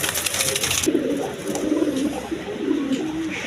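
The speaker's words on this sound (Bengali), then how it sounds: "এখানে এক পেয়ার লাহরি কবুতর দেখেন একদম দেখার মতো কবুতর" A pair of large Lahori pigeons coo close by in soft, repeated throaty rolls. The calls are steady and low, following a brief burst of rustling at the start.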